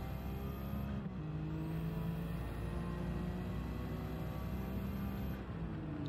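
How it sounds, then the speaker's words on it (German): A tuned, highly modified Japanese rally car engine in Gran Turismo 7 drones steadily at high revs, with a brief dip and gear change near the start, loud and continuous with no talk. "Richtig hochgezüchteter Motor"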